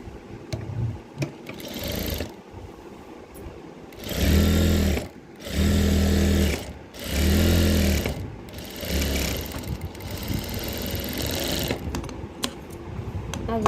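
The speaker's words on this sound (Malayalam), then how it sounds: "അതുപോലെ ഈ കാലിൻ്റെ ഈ ഭാഗം നമുക്കൊന്ന് സ്റ്റിച്ച് ചെയ്ത് കൊടുക്കാം" Electric sewing machine stitching a trouser leg, three steady whirring runs of a few seconds each with brief pauses between them, under and around continuous talking.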